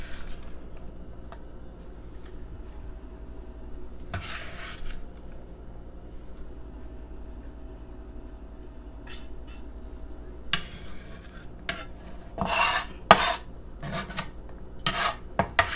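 Chopped onion and green pepper scraped and scooped into a pot for homemade chili, giving scattered raspy rubbing and clattering bursts, with a cluster of louder scrapes near the end over a quiet room background.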